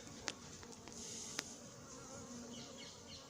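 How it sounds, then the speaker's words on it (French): Honeybees hum steadily around hives in Montgeron, France, a soft continuous buzz broken by a couple of sharp clicks. "Et il y avait 10 abeilles autour de moi"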